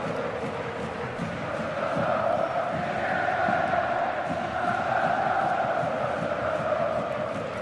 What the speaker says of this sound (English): this capacity crowd tonight. Raucous atmosphere.